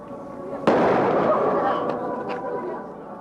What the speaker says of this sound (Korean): 갑작스런 총성에 성당 안팎이 술렁대기 시작했다